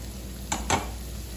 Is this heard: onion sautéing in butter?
yes